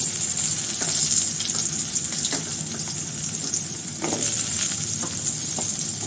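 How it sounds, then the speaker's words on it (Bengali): Small cut potatoes frying in oil with cumin seeds, a close, continuous bubbling sizzle with light stirring scrapes and occasional crackles, with no voices. "তো আলুটা একটু ভেজে নেব"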